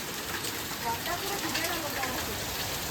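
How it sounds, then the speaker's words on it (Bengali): Heavy rain with large hailstones during a thunderstorm produces a dense, steady patter close by, including drops striking a metal plate. "বৃষ্টিটা ভালো বৃষ্টি হচ্ছে"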